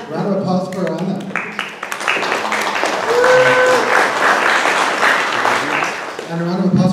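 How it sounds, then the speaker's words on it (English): Audience applause fills a tenants' rights town hall, a steady wash of clapping hands from the crowd lasting several seconds, with voices talking over it at the start and end. "Round of applause for Anna."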